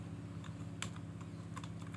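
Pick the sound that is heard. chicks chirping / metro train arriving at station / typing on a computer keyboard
typing on a computer keyboard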